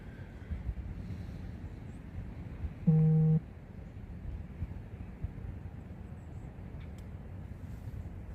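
Low, constant wind rumble buffets the microphone throughout at North Point State Park, interrupted briefly by a short steady horn-like tone.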